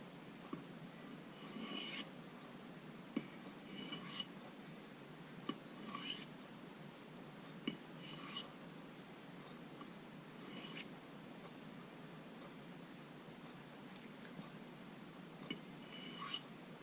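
A knife edge is stroked across a soft Arkansas sharpening stone to shear off the burr, giving short, light rasping passes repeated every second or two, close and quiet, with no talking.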